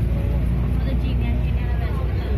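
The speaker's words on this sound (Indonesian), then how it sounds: "Oh guys, kita udah di dalam bis." Inside a bus heading up to Genting Highlands in Malaysia, a constant deep engine drone and road rumble fills the cabin evenly from start to finish, with voices mixed in.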